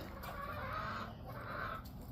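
Marans and Australorp hens clucking nearby in a farm coop, two soft rounds of murmuring clucks in quick succession over low background noise, no speech.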